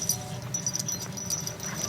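A dog whimpering and wheezing close by after a ball game outdoors, a short run of high, breathy whines with no talk.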